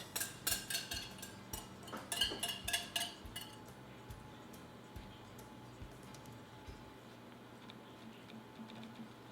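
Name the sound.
mixing wet ingredients into dry ingredients for muffin batter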